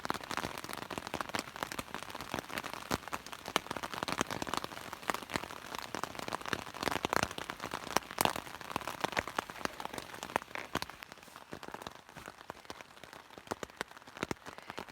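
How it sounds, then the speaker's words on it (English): Steady rain drums on a tent in the Canadian wilderness, a dense close patter of countless drops with sharper individual hits scattered through, continuous for the whole stretch. "It's raining quite a bit."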